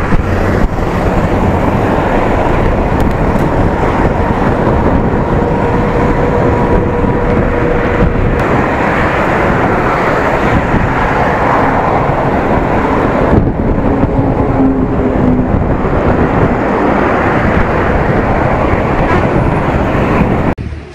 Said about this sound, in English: The wind is blowing in our direction, making it